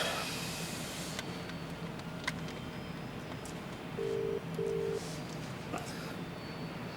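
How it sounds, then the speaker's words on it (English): A telephone number is dialed, with short electronic tones sounding in a few separate bursts over steady background hiss and faint clicks. "I'll make the call when we get to a phone."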